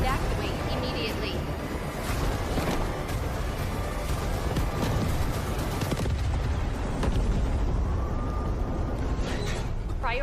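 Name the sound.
hydrogen reactor explosion in the video game Delta Force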